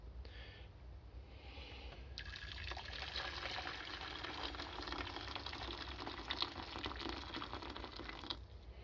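A die-cast Dinky Toys Bedford AA van casting goes into a container of boiled water, bringing a hissing, bubbling fizz that begins abruptly and sizzles steadily for several seconds, close and fairly quiet.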